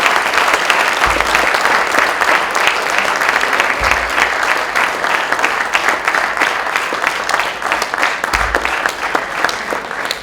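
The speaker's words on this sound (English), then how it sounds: "You deserve a big round of applause." Loud, sustained audience applause at an Anveshana event honoring the Agastya organizers and volunteers, a dense, even wash of many hands clapping throughout, with no talk over it.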